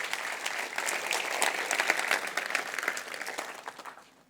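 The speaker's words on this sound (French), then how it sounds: "On peut l'applaudir" Audience applause at a company's tenth-anniversary keynote, dense steady clapping from a crowd that holds for about three seconds, then thins and dies away.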